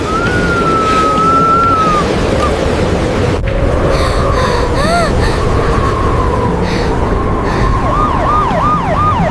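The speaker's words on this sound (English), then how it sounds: "I hear the ambulance!" An ambulance's wailing siren rises and falls repeatedly, then shifts to a faster yelp pattern, sounding moderately close above steady background noise.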